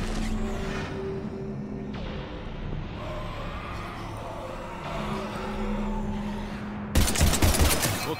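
Rapid bursts of gunfire from a French-language Mass Effect 3 shooter scene against zombies, clattering shots at moderate level over game ambience, with a louder burst near the end.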